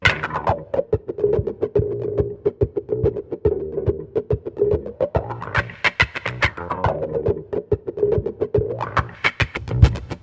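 Looped electric guitar with a wah pedal sweeping the tone open and closed over percussive strummed hits, playing a part from a song, steady rhythmic pattern, no voices.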